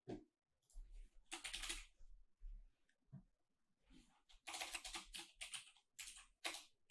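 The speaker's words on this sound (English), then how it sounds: "If I can type." Typing on a computer keyboard comes in short bursts of clattering keystrokes separated by pauses, close but fairly quiet, with faint low knocks between them.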